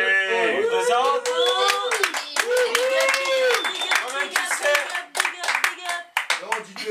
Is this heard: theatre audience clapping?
yes